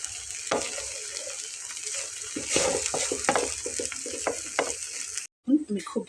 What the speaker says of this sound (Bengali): এর ভেতরে আমি দিয়ে নেব আগে থেকে ভিজিয়ে রাখা চিড়া। এবং খুব ভালোভাবে মিক্সড করতে হবে।